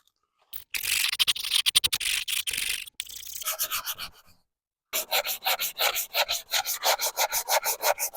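Sandpaper rubs in quick, close back-and-forth strokes across a plastic headlight lens on a 1983 Ford Econoline E150, a burst of scraping followed by a short gap and then a more even run of rhythmic passes.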